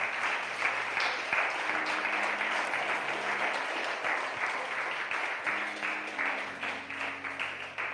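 Steady applause from a crowd fills the space, with a sustained organ-like tone underneath throughout.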